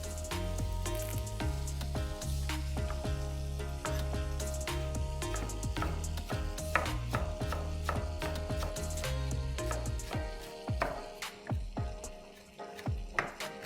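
Fresh garlic sizzling in hot melted butter for anda ghotala, a steady crackling sizzle broken by frequent sharp clicks and clatters of a spatula against the pan, close and fairly loud.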